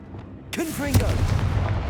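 A Confringo fire spell in the video game Hogwarts Legacy goes off as a sudden, loud, booming blast with a rumbling tail, preceded by a brief vocal sound as it is cast.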